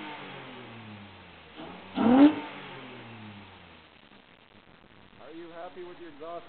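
A 2005 Nissan Frontier Nismo 4.0 pickup with a custom dual 2.5-inch to 3-inch exhaust revs up sharply with a throaty exhaust roar, then settles into a rumbling idle while people talk nearby.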